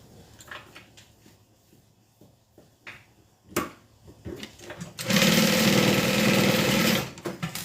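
A Juki 1181 sewing machine stitches the side of a quilted bag to its bottom, running loud and steady for about two seconds after a few soft handling clicks and taps.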